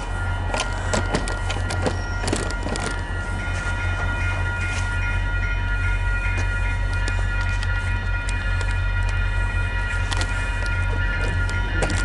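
VIA Rail passenger train 85 rolling steadily past at close range, a loud continuous rumble with clattering wheels and rail squeal throughout, no voices.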